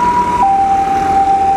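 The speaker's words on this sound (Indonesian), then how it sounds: "Ambulan lewat." An ambulance siren sounds loud and close as it passes on a road near a toll road construction site in Jogja, with a steady two-tone wail and traffic rumble beneath it.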